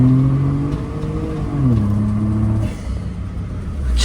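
A Daihatsu Naked turbo kei car with a Hummer body kit accelerates hard, its engine note climbing through a gear, dropping at the shift, then rising again before easing off, loud and close.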